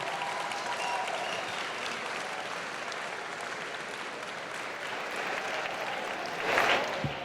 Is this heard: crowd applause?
yes